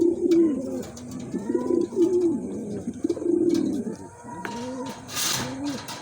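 Pigeons, including young racers, coo repeatedly in their loft during rain and wind, with low rolling calls overlapping up close and a brief flutter or rustle near the end.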